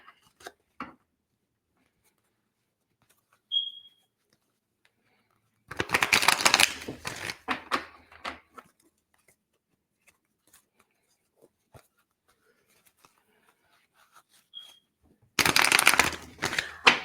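Tarot cards shuffled by hand before a reading, two separate bursts of brisk riffling and flapping separated by long quiet stretches, close and fairly loud, with faint scattered clicks between.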